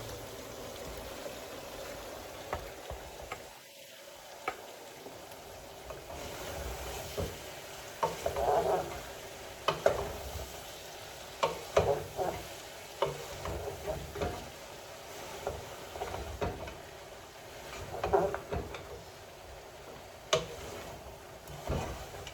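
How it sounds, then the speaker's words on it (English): Cabbage cooks in a pot with a soft low sizzle while a spoon stirs it in repeated scraping, clattering bursts, fairly quiet and close, with no talk. "Here's my cabbage in the pot."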